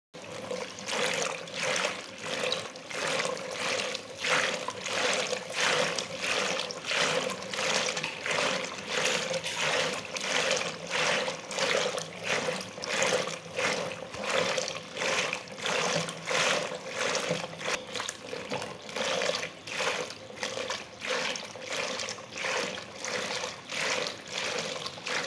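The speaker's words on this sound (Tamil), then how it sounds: "மோர் கடையும் போது அந்த சவுண்டு பாருங்கள்" Curd being churned by hand with a wooden churner to make butter in a village, a steady rhythmic sloshing and swishing of liquid that repeats evenly and continuously throughout, loud and close with no talking.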